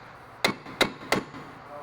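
Three sharp metallic hammer blows, evenly spaced and close, land on an impact driver set in a T30 Torx rear brake caliper bolt on a 2006 Chevrolet Impala.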